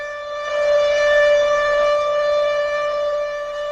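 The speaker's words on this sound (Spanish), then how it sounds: "¡Suena la sirena! ¡Suena la sirena! ¡Vayan al refugio!" Air raid siren wailing loud and steady, swelling slightly in volume and then easing off, alone with no voices.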